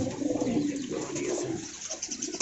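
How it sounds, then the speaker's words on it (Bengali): High-flyer pigeons cooing at a large pigeon farm in Dhaka, low murmuring coos overlapping in a dense, fairly faint backdrop. "এই যে দেখতে পারতেছেন এইখানের মধ্যে আরেকটা পেয়ার, আরেকটা কবুতর"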